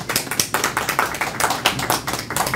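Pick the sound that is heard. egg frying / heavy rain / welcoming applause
welcoming applause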